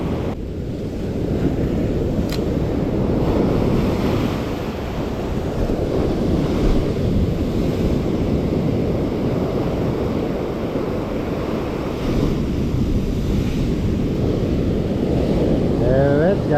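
Sea waves roll and break along the beach at Karasu, a continuous, heavy roar of surf churned by gusting wind buffeting the microphone, loud and unbroken throughout.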